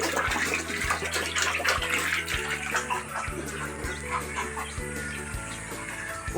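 Steady water running and splashing close by, continuous throughout, with chickens clucking faintly in the background.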